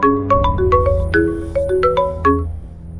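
A melodic phone ringtone plays a bright, chiming tune of quick repeated notes, loud and close, with no one speaking.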